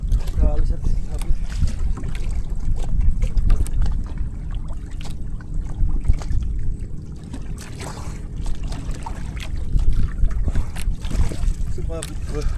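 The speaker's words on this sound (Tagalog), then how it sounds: "Sila yung bangka." Water sloshes and laps against a small boat nearby, with a steady rumble and wind underneath while people talk over it.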